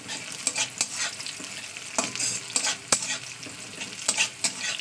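Onion, garlic and green chillies frying in a pan for a water spinach dish, with loud, close sizzling and repeated brisk stirring scrapes throughout and no talking.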